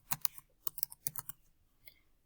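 Quiet clicking of keys on a computer keyboard, a few quick clustered taps in short bursts with brief pauses, close and soft.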